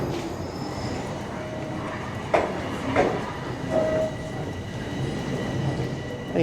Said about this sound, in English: As the train rolls in.